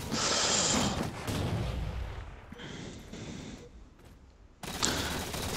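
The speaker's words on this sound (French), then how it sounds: "il y a Nico qui tire dessus" Rapid video-game gunfire crackles in dense bursts during a 2v2 match, loud through the opening second, easing into a steadier rattle and then flaring again near the end, with no voices.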